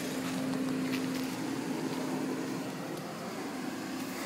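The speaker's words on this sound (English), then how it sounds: "It's a well-running engine. Fan's kicking in right now. It's been idling a little bit." A 1990 BMW E30 M3 idles with its cooling fan running, giving a steady low hum under a soft whirring rush. The sound is faint and even, with no talking.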